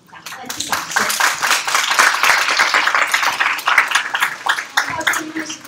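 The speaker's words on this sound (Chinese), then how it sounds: "再次谢谢唐凤精彩的演讲，再次掌声" Audience clapping after a university general-education lecture by Audrey Tang, a steady burst of many hands close and loud for several seconds, with some voices mixed in.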